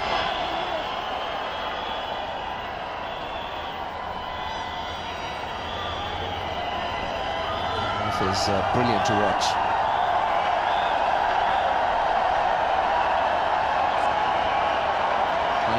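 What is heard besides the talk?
cricket stadium crowd cheering at Bangalore ODI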